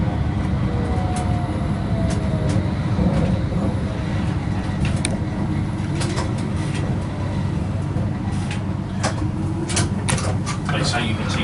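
London Underground Metropolitan line train running as heard from the driver's cab, a steady loud rumble with rattles and clicks throughout, with a voice talking over it.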